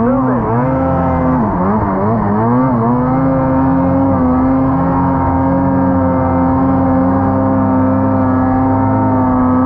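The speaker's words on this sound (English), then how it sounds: "That's full throttle. Just to get moving." Loud, close engine of a vehicle at full throttle climbing through deep snow, a strained, steady roar with wavering pitch early on before settling into a sustained high-revving drone.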